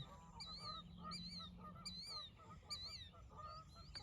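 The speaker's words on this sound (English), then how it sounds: "That little bird is quite steady." A small bird calls outdoors in a steady rhythm, giving about five bright, repeated chirping phrases over a low, constant background hum, with no talking.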